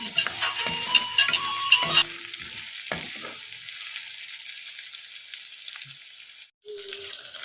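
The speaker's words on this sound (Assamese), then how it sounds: "আৰু লগতে এই আদা নহৰু পেষ্টখিনিও সুন্দৰকৈ ভাজি লৈছোঁ।" Pork frying with ginger-garlic paste and dried chillies in a pan gives a close, busy sizzle with stirring clatter at first, then settles into a quieter hiss before briefly cutting out near the end.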